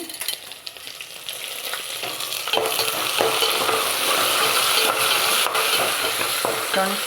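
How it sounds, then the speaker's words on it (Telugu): Curry leaves and dried red chillies crackle and sizzle loudly in oil for rice rava upma, the hiss swelling after a few seconds, with occasional clinks of stirring. "ఎంత చక్కగా వేగిపోతున్నాయి"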